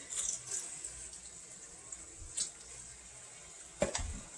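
A kitchen tap runs while a hand is rinsed under it, a soft irregular splashing with a few brief surges and a sharper splash near the end, fairly quiet and with no talking.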